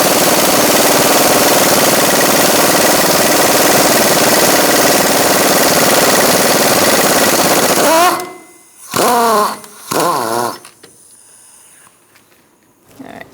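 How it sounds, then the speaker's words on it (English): An impact tool with a 17mm socket spins a bolt off the lateral link of a 2004-2009 Mazda 3, a loud, continuous buzzing rattle for about eight seconds, then short bursts and quieter handling sounds. "Using a 17mm socket, we're going to remove this bolt."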